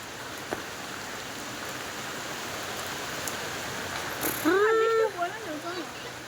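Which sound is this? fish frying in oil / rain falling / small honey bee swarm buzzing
rain falling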